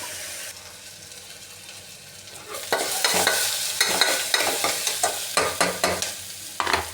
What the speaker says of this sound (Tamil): பார்த்திங்கன்னா வெங்காயம் வந்து கொஞ்சம் நல்லா ரோஸ்ட் ஆகிடுச்சு.